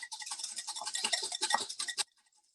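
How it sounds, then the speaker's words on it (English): A hand whisk beats egg whites in a bowl until foamy, producing a fast, even run of close, crisp clicking strokes for about two seconds before stopping abruptly. "we're just gonna whisk this so that it's nice and foamy"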